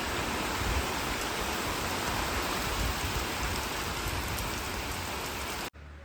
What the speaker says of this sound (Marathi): बाकी जोरात आला दोन मिनटामध्ये पाऊस आला